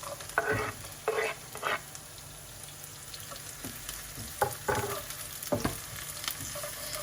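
Garlic fries in a hot wok for pad thai with prawns, giving a soft, continuous sizzle under sharp, intermittent scraping and clattering as it is stirred, close by and fairly quiet.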